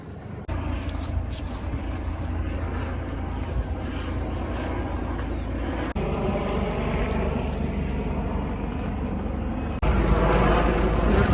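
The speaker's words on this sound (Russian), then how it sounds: "Еще этот вертолет кружит полицейский над головой" Outdoors in a Buenos Aires park, the steady drone of a circling police helicopter overhead persists throughout, mixed with wind buffeting the microphone. No one speaks.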